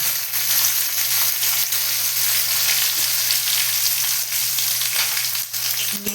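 Dry red chillies, ginger, garlic and nigella seeds fry in hot oil in a pan, a loud, dense, continuous sizzle heard up close with a few faint stirring knocks and no talk.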